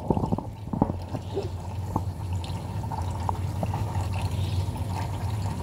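Water being poured in a home kitchen, a close trickling, splashing stream with small drips, running steadily over a low background hum.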